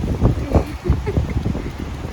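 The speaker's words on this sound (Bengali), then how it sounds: "ছাতাটাকে ধরে রাখা যাচ্ছে না, এত হাওয়া দিচ্ছে।" Strong gusty wind buffets the microphone in rainy outdoor weather, with rumbling bursts that rise and fall; a person speaks briefly over the blustery noise.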